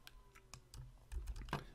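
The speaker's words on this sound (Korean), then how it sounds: "카피가 아니라 우리가 직접 그 타이핑을 한번 해보도록 하겠습니다" A computer keyboard being typed on during a Python coding lesson about loading data with Keras, with quick irregular key clicks close to the microphone and heavier keystrokes near the end, with no voices.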